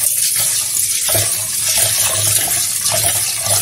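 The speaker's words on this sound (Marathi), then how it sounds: "1 ते 2 पाण्याने स्वच्छ धुवायची" Steady running water splashing and sloshing in a bowl or sink as moth bean lentils are rinsed, with soft rinsing and stirring sounds throughout, close and fairly loud.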